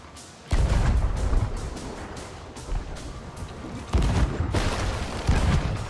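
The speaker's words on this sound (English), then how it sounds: "we're gonna have broadside in like 3 seconds" Ship cannons boom in a Sea of Thieves galleon-versus-brigantine battle, loud heavy blasts arriving in a ragged sequence of repeated shots, several close together near the start and again later.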